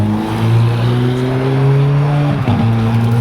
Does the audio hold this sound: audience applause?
no